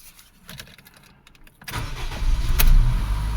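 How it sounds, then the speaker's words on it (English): A 2009 Honda Fit's engine starting: quiet mechanical clicks and a brief crank, then the engine catches and settles into a louder, steady idle, with no talking. "Let me start the car."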